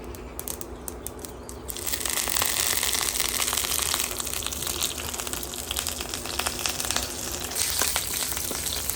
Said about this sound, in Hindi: जैसे ही मस्टर्ड सीड, जैसे ही राई फटने लगे, हम लोग डालेंगे इसमें हींग, एक छोटा चमचा। करी पत्ता 10 से 15।